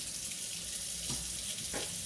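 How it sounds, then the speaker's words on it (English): Water running steadily from a tap into a sink while a container used for lye and sodium hydroxide soap making is rinsed out, with a couple of brief splashes and knocks under the flow. "you guys will be hearing the water running"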